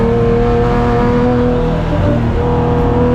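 A BMW race car in the Amtech Racing Fuels livery runs its engine hard on a circuit during a racing festival, giving a loud, sustained, close engine roar with steady harmonic tones throughout.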